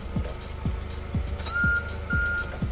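A forklift's backup alarm beeps in a steady, regular rhythm about twice per second, loud and close over a low engine rumble.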